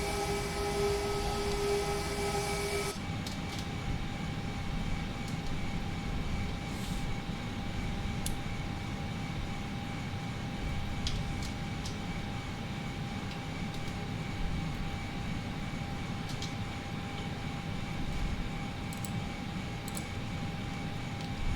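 Airbus A320 engines and APU after landing in the FSLabs flight simulator: a steady loud jet engine drone with high whining tones, one tonal layer cutting out early, then a continuous roar with faint clicks.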